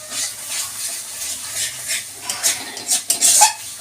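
Katla rezala with cashew paste is stirred in a pan, with close, soft scraping strokes building into quicker metallic clinks and scrapes toward the end, and a faint sizzle underneath.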